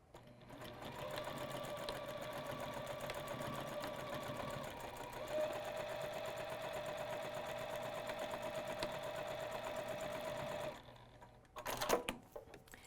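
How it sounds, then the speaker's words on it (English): A sewing machine stitches a short seam on a tote bag with backstitching at both ends, a steady rapid mechanical hum that briefly shifts pace and stops near the end, followed by a few handling clicks. "I'm going to sew just a couple inches, and I'm going to make sure that I back stitch both at the start and at the end"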